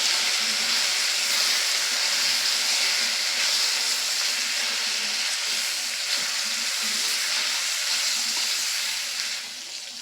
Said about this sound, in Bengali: সব উপকরণগুলোকে আমি ভালো করে কষিয়ে নেব।